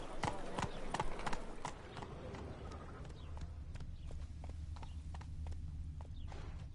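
Roach the horse from The Witcher 3 PS5 Edition trots with a steady, rhythmic clip-clop of hooves, louder at first and then settling into an even, moderately close gait over a low ambient hum.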